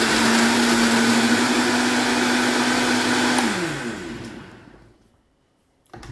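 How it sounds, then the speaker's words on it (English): A blender whirs loudly at a high steady pitch as it purées cashews and water, then spins down over about a second into near silence, with a brief faint knock at the very end. "we're just going to turn our blender on."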